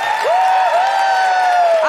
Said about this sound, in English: let us have a huge round of applause for Olga Koch